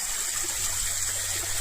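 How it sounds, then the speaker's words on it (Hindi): Water being filled at Gomukh Ghat, a holy bathing spot near a temple, a steady close rush and trickle of flowing water with even hiss and no pauses. "यहाँ से हम गोमुख घाट से ये पानी भर रहे हैं माता का"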